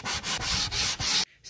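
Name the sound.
sanding wood for a school bus kitchen cabinet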